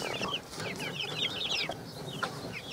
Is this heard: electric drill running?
no